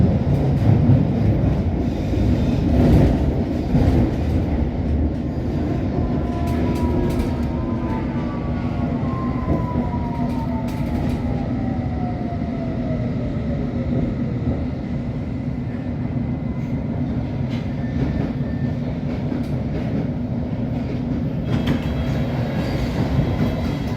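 A London Underground Metropolitan line S8 stock train rumbles steadily along the track near Farringdon, a loud continuous roar with faint rattling and a brief rising whine partway through.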